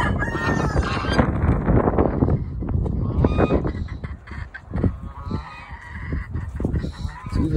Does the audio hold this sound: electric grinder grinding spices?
no